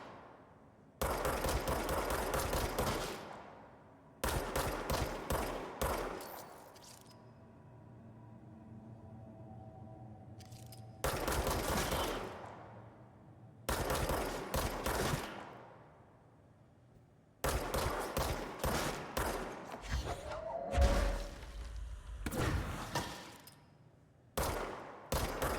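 A gun in the video game Control fires in several long, loud bursts of rapid automatic shots. Short pauses with a low background hum separate the bursts.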